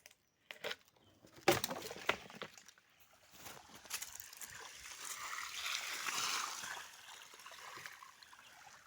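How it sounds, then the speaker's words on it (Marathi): Water rushes out of a pipe lowered into a pit to drain it, faint knocks and splashes at first, then a rising, steady gush that swells midway and eases off toward the end. "आता आपण हे खाली घेतल्यानंतर हे पाणी चालू होईल"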